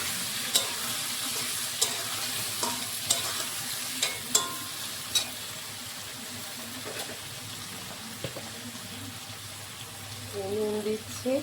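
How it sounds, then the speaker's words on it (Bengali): Potato and eggplant frying in oil with nigella seeds gives a steady, moderate sizzle with scattered sharp crackles and clinks of stirring, ending in brief muffled sounds. "তো আলু বেগুনটা এখন আমি ভেজে নেব।"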